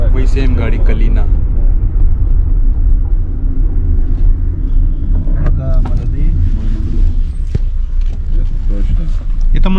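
Interior of a moving Lada Kalina taxi in Russia, with a steady low engine and road rumble and occasional creaks and knocks as it drives, while people talk over the noise.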